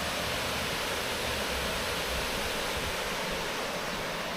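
Water pours steadily over the Price Lake spillway on the Blue Ridge Parkway, giving a constant, even rushing hiss with no voices or breaks.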